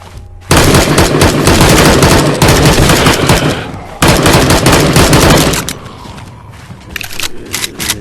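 Rifle fire in the VR zombie game Survival Nation, with rapid dense bursts of loud shots in two long volleys separated by a short pause, then quieter scattered sounds.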